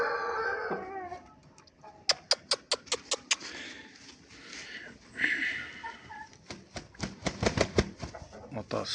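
A rooster of a Vietnamese breed crows in a yard, with rapid sharp clucking and pecking bursts around the calls, fairly quiet overall.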